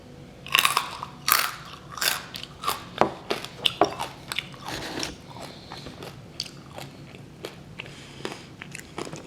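Crispy roast pork belly skin gives off a run of close, sharp crunching bites followed by chewing. The hard cracks come in irregular bursts, loudest near the start, then fade into softer crunches.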